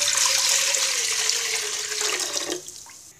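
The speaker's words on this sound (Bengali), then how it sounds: "এবার একটি পাতিলে আমি নারকেলের দুধটা ঢেলে দিব।" Coconut milk pours in a continuous, loud liquid stream into a pot, trailing off in the last moments as the flow ends.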